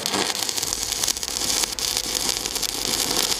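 Low-current arc welding of a fillet (corner) weld, with slag boiling and running ahead of the electrode: a steady close crackling hiss that holds level throughout, no voices.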